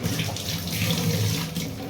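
Water streams from a tap into a cooking pot in a home kitchen, a loud, steady splashing gush that continues without pause.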